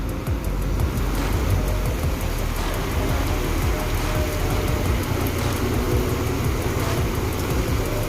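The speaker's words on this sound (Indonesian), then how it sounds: "Hujan deras di siang hari bosku, jadi aktivitas agak terhambat." Heavy daytime rain pours steadily, a dense, loud, even hiss of drops on surfaces, mixed with low traffic rumble.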